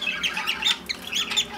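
A budgerigar gives repeated harsh, close squawks in quick succession while a leg ring is fitted, loud and alone with no talk.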